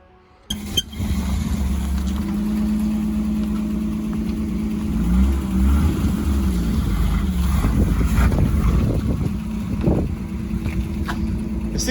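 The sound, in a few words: Chevrolet C10 truck engine starting and idling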